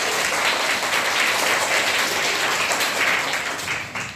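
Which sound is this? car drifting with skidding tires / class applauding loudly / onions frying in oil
class applauding loudly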